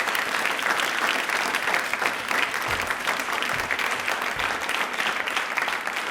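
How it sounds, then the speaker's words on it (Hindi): A studio audience at a general knowledge quiz programme on DD Rajasthan gives a dense, continuous round of applause, loud and even throughout with no talk over it. "प्लीज एक बार तालियां जोरदार बजा दीजिए।"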